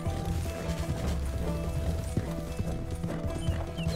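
Horse hooves clip-clopping steadily in Red Dead Redemption 2, with a brief whinny, all set against a constant game ambience and no voices.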